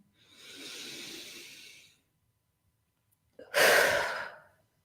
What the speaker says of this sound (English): And on the exhale, blowing it out.